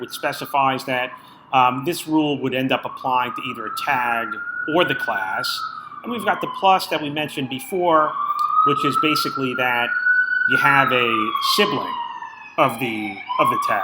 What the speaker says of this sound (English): Sorry for the sirens out there.